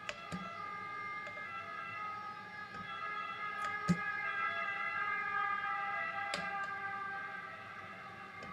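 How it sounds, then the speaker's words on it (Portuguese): A steady wailing siren held at a constant pitch throughout, with a few sharp knocks and clicks nearby. "Esse barulho é da ambulância."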